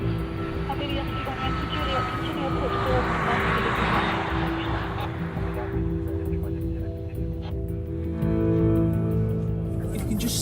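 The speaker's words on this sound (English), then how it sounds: "there will be aircraft coming into land still." At Heathrow Airport, an aircraft coming in to land makes a continuous engine roar with a swelling whine, heard steadily at a distance while a person talks over it.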